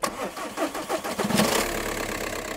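A BMW E46 car engine cranks with a rapid churning whir, then catches and settles into a steady idle.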